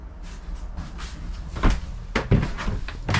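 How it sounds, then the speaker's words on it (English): A three-piece glass shower door in a 2024 Grand Lodge 42FK RV is moved, giving a few close, soft knocks and rattling thumps with a firmer bump near the end, and no voices. "You have a 3-piece glass door, and I don't want to break it."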